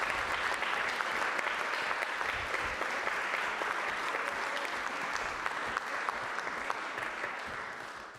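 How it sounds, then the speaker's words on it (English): Sustained applause from a council meeting audience clapping for young people, steady and dense throughout before tapering slightly at the end. "Could we just clap for the young people"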